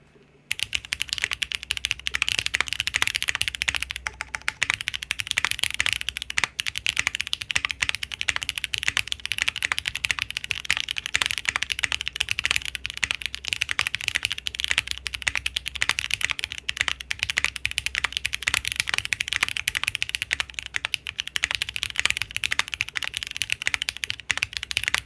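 Rapid, crisp typing on a computer keyboard, close and steady for the whole stretch with no one speaking, the keystrokes dense and continuous.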